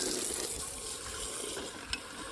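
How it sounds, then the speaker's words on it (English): Water gushes steadily into the cooling system of an IH 1486 tractor during flushing, a continuous loud rushing fill close by with a brief splash near the end. "I'm going to fill this completely with water and then let it drain out a couple of times"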